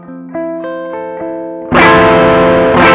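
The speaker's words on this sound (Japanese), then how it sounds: "ローゲインでアンプライクな歪みの表現で、しっかりピッキングにも追従してくれる" An electric guitar runs through a Klon KTR overdrive pedal at low gain: clean-edged picked notes ring out, followed by a loud, sustained, mildly distorted strummed chord that swells and holds.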